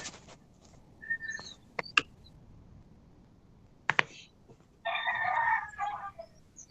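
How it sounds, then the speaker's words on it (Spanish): A rooster crows in the distance during an online class, with a couple of short bursts early on and a longer, louder crow near the end, plus scattered faint clucks and knocks. "El gallo también dijo presente."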